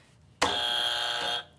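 Game show buzzer sounding on a Dubai talk show segment: one loud, harsh sustained electronic buzz that starts abruptly, holds for about a second, then cuts off, with no talking over it.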